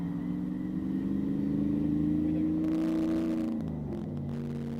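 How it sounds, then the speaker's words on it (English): A Ford Mustang with a Coyote V8 engine revs in a low, rumbling rise and fall that sounds fairly distant and subdued, then the tone drops and settles toward the end. "That's a Coyote engine."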